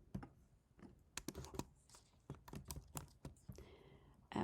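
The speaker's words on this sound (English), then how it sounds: "I'm going to highlight this one, and I'm going to type in Lucy because she's on my class list" Names are typed on a computer keyboard, with quick irregular bursts of close, crisp key clicks separated by short pauses and a few louder taps.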